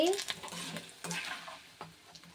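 Cornflakes frying in hot oil with curry leaves for an Andhra style atukula mixture, a soft crackling sizzle with light scraping and stirring clicks of a spoon against the pan.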